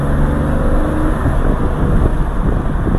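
A Porsche 911 Carrera engine revs in a rev match, giving a loud, steady, close throaty drone for the full three seconds with no pause or voice.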